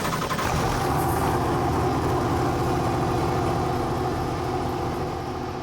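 A Corvette sports car engine, already running, rumbles with a loud, steady, throbbing idle that stays even throughout, with no voices.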